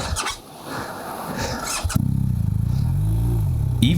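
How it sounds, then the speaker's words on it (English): Off-road motorcycle engine revving hard as the rider fights for traction on slippery rocks, a close, loud, wavering mid-pitched roar that kicks in sharply after a short stretch of rustling ambient noise. "Even when the motorcycle is upright, gaining traction on slippery rocks can be challenging."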